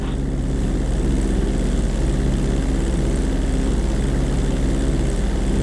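Propeller airplane engines drone loudly and steadily as the plane comes in to land in Grand Theft Auto 5, a constant close, even roar with no pauses.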